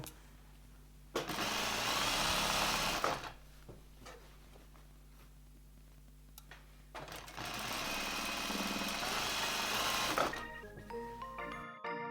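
Sewing machine stitching the final seam of a wrap skirt, running in two loud sustained bursts separated by a quieter pause, with no talking.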